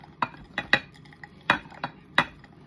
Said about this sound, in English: A little hard to stir.